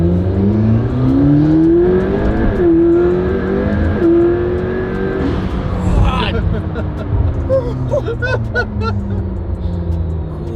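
A McLaren P1's powerful engine revs hard close by while warming up tires, its pitch climbing and dropping through several gear changes, then settling into a rough burbling idle.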